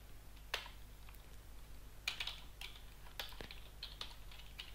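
Scattered keystrokes on a computer keyboard as console commands are entered for GSM sniffing with a software defined radio, a few separate clicks and short bursts, fairly close but quiet over a low steady hum.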